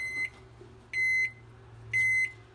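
A microwave oven signals the end of its cycle with three evenly spaced, clear electronic beeps, each lasting about a third of a second, close and moderately loud over a low hum.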